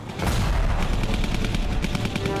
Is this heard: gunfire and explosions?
yes